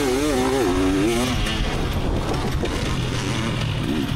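A motocross bike racing on a dirt track near a 1986 Honda CR250, its two-stroke engine screaming loud and close, rising and falling in pitch through gear changes and throttle.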